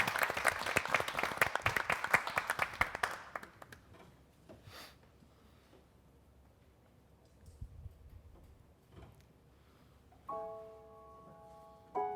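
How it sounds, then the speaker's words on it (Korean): A church congregation applauds with dense, lively clapping for about three seconds, which then fades into scattered claps and quiet before a sustained musical tone begins. "우리 박수로 청해 보도록 하겠습니다"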